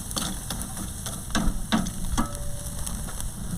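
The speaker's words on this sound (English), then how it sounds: "I'm going to stir these chips up a little bit." Tabasco wood chips stirred on a hot grill, giving a steady sizzle with several scraping, knocking strokes at an uneven pace, close up.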